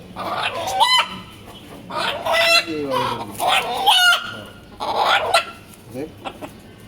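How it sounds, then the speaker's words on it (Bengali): Several desi (native) chickens cluck and squawk close by in repeated, uneven bursts, with a brief crow-like call mixed in. "তিনটা মুরগি খুব পছন্দ হলো, দেশি মুরগি।"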